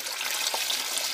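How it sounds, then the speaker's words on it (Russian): Water runs into a basin while salting pike for curing, a steady hissing, bright stream with one small splash midway, close and continuous. "в наш тазик набираем воды приблизительно столько, чтобы оно закрыло рыбу полностью"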